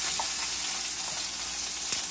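Beef for a New York chopped cheese sizzles on a flat griddle as it caramelizes, a steady close crackling hiss with small pops throughout and no voices.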